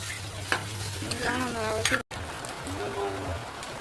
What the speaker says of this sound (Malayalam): നമുക്കിതൊന്ന് ഇളക്കി യോജിപ്പിക്കാം